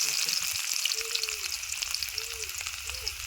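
Chopped onions sizzle steadily in hot oil in a pan after mustard seeds have spluttered, a continuous close crackling hiss with faint low tones underneath.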